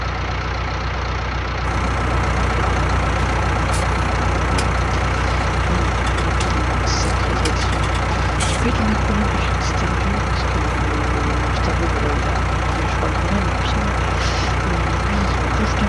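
A heavy tractor engine runs steadily close by, a constant low rumble and clatter with no break.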